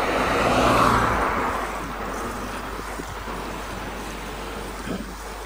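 A car sweeps past on a road near the Noto Peninsula coast, loud at first with wind noise, then fading to a steady traffic rumble. No one speaks.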